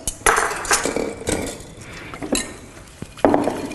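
Lemon juice and brown sugar are whisked in a bowl, giving close, uneven clinks and scrapes of a whisk against the bowl in irregular bursts, with no talking.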